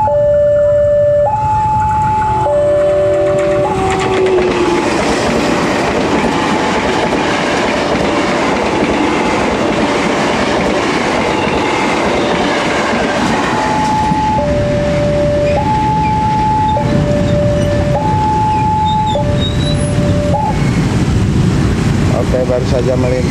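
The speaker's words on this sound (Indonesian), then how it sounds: "Baru saja melintas KRL TM 6000." A KRL TM 6000 electric commuter train rumbles loudly past a railroad crossing near Cibitung, with rail clatter and wheel noise throughout, while the crossing's two-tone warning bell rings continuously over it.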